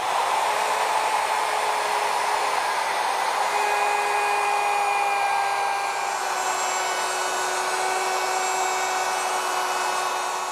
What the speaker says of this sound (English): To cut the groove, I'm going to use my router, which has this slot cutting bit with a 1/8" wide cutter